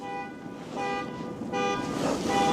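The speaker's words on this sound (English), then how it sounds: "my car alarm went off" A car alarm blares out near a truck at a campsite, its repeated honking tones pulsing in steady bursts that grow louder over a low outdoor background.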